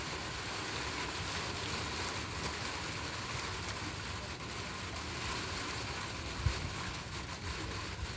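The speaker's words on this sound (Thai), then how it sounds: "ตามเสียงฝนนะคะ" Steady rain falls outdoors under a darkening sky, a continuous broadband hiss with low drumming on surfaces, unbroken for the whole stretch, with one faint knock near the end and no talking.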